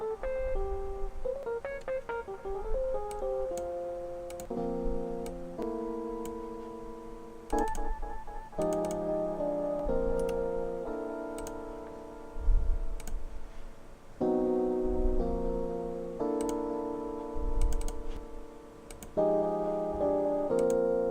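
Lo-fi tape delay from the Echomania plugin, with a melodic keyboard-like line repeating in echoes over a bed of tape hiss, the decaying repeats overlapping steadily throughout with a wobbling, degraded tone.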